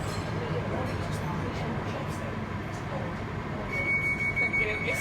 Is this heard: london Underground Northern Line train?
yes